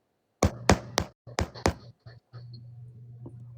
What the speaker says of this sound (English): What I'd expect to hear is a knock like this.